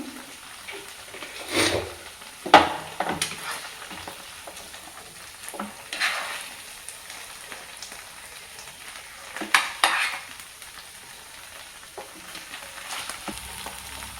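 Mackerel masala frying in a pan, a soft steady sizzle under several sharper scraping and clattering stirs, fairly quiet and close.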